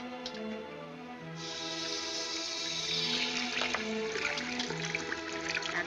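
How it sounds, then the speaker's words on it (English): Water runs from a tap over a hand, a soft steady splash and trickle that swells slightly after a moment under a faint film score, quiet and close, with no talking. "Hold your hand under the water."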